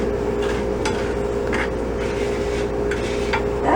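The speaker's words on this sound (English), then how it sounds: "Right now we are going to stir this together." A spoon stirs buttery breadcrumbs in a pan, scraping and rubbing in a few soft strokes over a constant background hum, with no talk.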